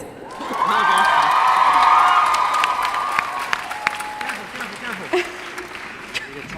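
A Comic-Con panel audience cheers and screams loudly, swelling quickly then gradually fading, with a few shrill whoops rising over the roar.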